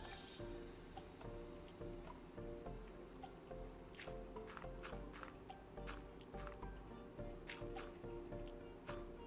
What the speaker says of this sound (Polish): Aha, dobra, po prostu, że woda leci.